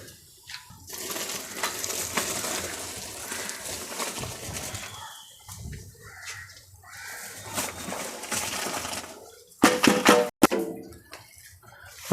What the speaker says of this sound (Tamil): தண்ணியில் நம்ம ஊற வச்சுருந்த அந்த அரிசி குருணையை நல்லா உள்ளார போடுறாரு பாருங்கள்.